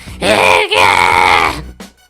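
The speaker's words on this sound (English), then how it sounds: "all the while screaming pathetically in the background" Animated villain Makuta from BIONICLE G2 lets out a loud, drawn-out anguished scream that briefly dips and resumes, then trails off with a short final gasp.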